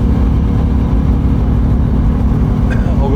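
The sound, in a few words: 1970 Mach 1 Mustang engine being driven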